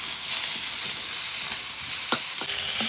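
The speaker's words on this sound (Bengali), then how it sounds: "নেড়ে নেড়ে পুরো ভাজা ভাজা করে নিতে হবে" Fresh gima greens fry in a pan with a constant soft sizzle, broken by a few scraping stirs of a spatula, the sharpest near the end; no voices are heard.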